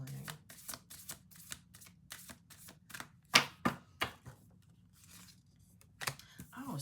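A deck of playing cards is shuffled on a table: a series of quick, crisp riffling bursts and sharp snaps, close up and fairly quiet, separated by short pauses.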